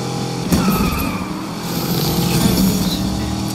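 In the racing video game Need for Speed Unbound, a car's engine roars continuously while its tires skid and squeal, loud and steady throughout with a brief sharper burst early on.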